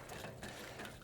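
Ratcheting mechanical clicks as a Sachs 48mm open cartridge fork cap is broken loose with a wrench and spun off, a dense run of quiet metallic ticks lasting about a second.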